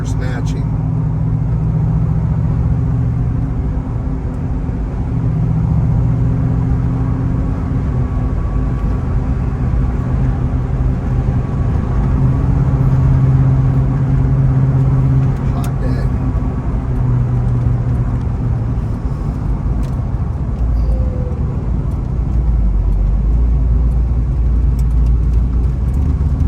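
A numbers-matching 1979 Pontiac Trans Am with a 400 engine and four-speed manual drives along, its steady low engine drone and road rumble filling the cabin without a break for the whole stretch.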